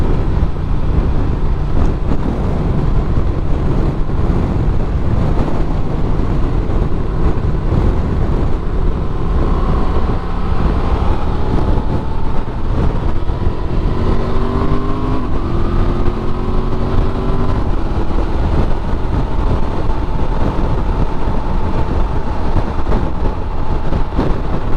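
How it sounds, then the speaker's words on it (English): A 2024 Honda Transalp 750 adventure motorcycle engine runs loud and steady, a continuous close-up drone with a faint rising tonal whine partway through and no talking. "this engine is phenomenal"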